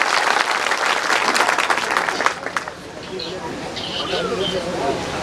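Loud crowd applause welcoming a Holkar royal, Maharaja Yashwantrao Holkar, at a public gathering at the Alampur chhatri; dense clapping fills the first half, then fades into lighter scattered claps and crowd murmur.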